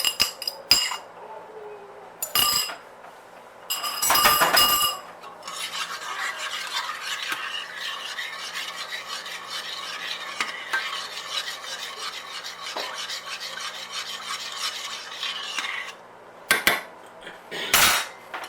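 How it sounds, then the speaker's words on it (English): Water and one beaten egg being mixed into a damper batter in a bowl, a steady close scraping and stirring that runs for several seconds, with brief clinks of utensil on bowl before and after. "put our 1 beaten egg in, give that a good mix"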